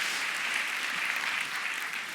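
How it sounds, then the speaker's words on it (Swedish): A theater audience at a live mentalism stage show applauds a man introduced from the foyer, a steady, moderately loud wash of many hands clapping through the whole stretch. "en applåd för Björn"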